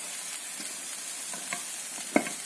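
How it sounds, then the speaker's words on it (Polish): Spicy paprika bean stew being stirred in a frying pot, with a steady soft sizzle and a few faint scrapes and clicks of the spoon, the loudest one near the end. "Całość mieszamy"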